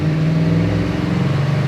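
A 1967 Camaro RS engine drones steadily with a low, even rumble as it pulls under acceleration, its tone dipping slightly partway through as if shifting gears, heard from inside the car.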